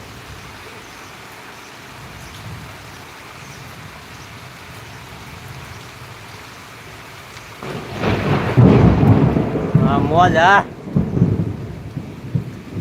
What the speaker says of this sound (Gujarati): ફૂલ વરસાદ છે ચાલુ જ છે હજી વરસાદ